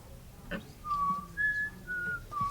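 A person whistles a few short, clear notes, rising and falling, close by, with small pauses between them.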